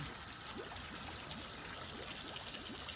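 A pump-fed flow of water trickles and splashes steadily into a koi fish pond in cold weather, a soft continuous patter with no voices.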